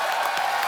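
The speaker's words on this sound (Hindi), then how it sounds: "इरफान भाई के लिए जोरदार तालियां" Brief burst of studio audience applause on a comedy talk show welcoming actor Irrfan Khan, a dense, bright clapping wash filling the whole moment.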